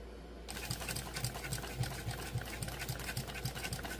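Singer 291u1 industrial sewing machine running with a stainless steel roller presser foot, a steady loud close whirring with a regular rhythmic thump after a brief quiet start, no voices.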